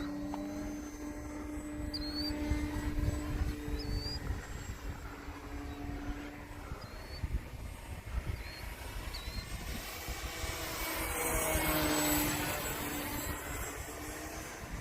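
An RC plane takes straight off outdoors with the gyro armed, its motor giving a steady, fairly loud whine over wind noise that swells again near the end as it climbs away.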